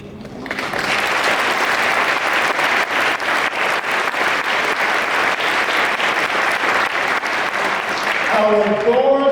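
Sustained audience applause at a foundation grant announcement for local African American organizations, loud and steady for about eight seconds before fading toward the end as a voice begins.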